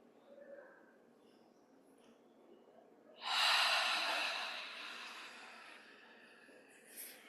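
A long, audible breath out during a qigong stretch, starting suddenly after a quiet moment and fading slowly over several seconds, with a softer breath near the end.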